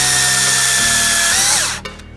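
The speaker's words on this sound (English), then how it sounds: "Then you just want to chalk up your drill, put it in reverse, hook it on with the Allen key," A power drill running in reverse spins to twist wire held by an Allen key for a scrap-wood fishing popper, a steady close whine that winds down and stops near the end.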